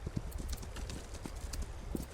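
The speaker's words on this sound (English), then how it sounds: "the horse will take us home as quickly as possible, automatically" Horse hooves clip-clop steadily in an even trotting rhythm as the mount auto-travels in the survival game This Land is My Land, with faint ambient wind behind the footfalls.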